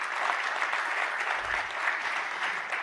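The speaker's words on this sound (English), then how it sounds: "give a round of applause to all of those employees across Clark County" Steady applause from a sizable crowd at a Clark County, Nevada event, dense and continuous clapping that holds at an even level throughout.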